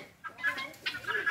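Chickens and guinea fowl on a Brazilian farm cluck and chatter in short bursts, several birds close by with overlapping calls and no clear talk.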